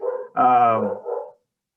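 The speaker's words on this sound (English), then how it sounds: "that's my dog" A dog gives one short, close, loud bark-like vocal burst, bracketed by softer whiny sounds, then silence.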